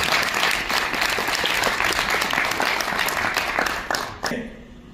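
An audience at a Korean private museum association general meeting claps loudly and continuously for past presidents. The dense applause fades and stops near the end.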